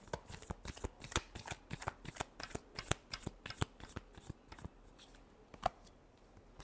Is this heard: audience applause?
no